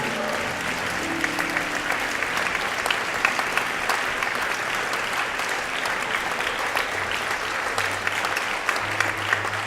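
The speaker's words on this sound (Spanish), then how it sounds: "Denle un fuerte aplauso a nuestro Rey Jesús." A church congregation breaks into loud, sustained applause, a dense continuous wash of many hands clapping close by, lasting throughout without letup.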